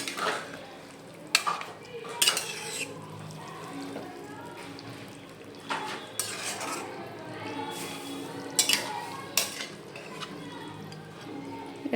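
A spoon stirring chicken palav in a pot, with intermittent scraping and clinking against the metal over a faint cooking hiss, moderately close and steady for several seconds.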